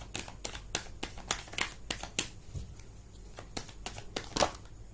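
Tarot cards are shuffled by hand in quick, crisp riffling bursts that repeat at an irregular rhythm, close and fairly quiet.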